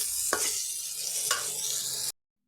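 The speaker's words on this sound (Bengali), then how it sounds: "নারকেল করাটা দিয়ে আবার ঢাকা দিয়ে দেবো একসাথে দুটোই আবার ভাজা হয়ে যাবে" Grated coconut and potato frying together in a pan for a bottle gourd and prawn dish, a bright continuous sizzle with two sharp stirring scrapes, ending abruptly in silence.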